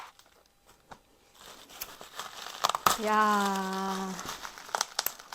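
Packaging around a newly delivered Yamaha guitar is crinkled and torn open in close, bursty rustles, with a person briefly exclaiming midway through the handling.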